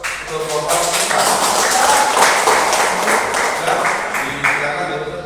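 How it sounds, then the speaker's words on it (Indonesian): Audience applause for a participant during a teaching practice session in a classroom, loud, steady clapping from many hands lasting several seconds. "Jawabannya kita beri aplaus untuk Bapak kita"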